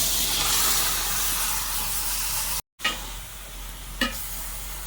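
Chicken fries in a pan with onion, chili and turmeric powders, giving a steady close hissing sizzle with scraping stir strokes, one brief dropout and no voices.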